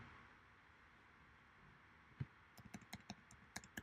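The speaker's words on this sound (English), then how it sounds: "by pressing arrows on your keyboard." A quiet room, then a quick series of light keyboard arrow-key clicks, about ten taps in an uneven rhythm, close and crisp.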